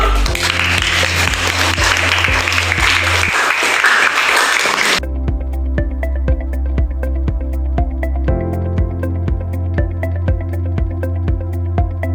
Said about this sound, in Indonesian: Kita tepuk semua dulu.